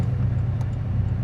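Porsche 718 Cayman flat-four engine on a 2019 PDK car, a low steady droning hum close by, brief and unbroken with no talk over it.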